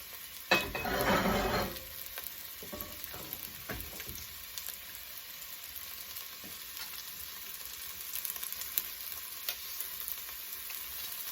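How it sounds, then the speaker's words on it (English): Onions and garlic dropped into hot oil for a Korean soft tofu stew burst into a loud sizzle, then settle into a gentle, steady crackle with light stirring taps. "So in goes the onions. And I'm gonna go ahead and put the garlic in it too."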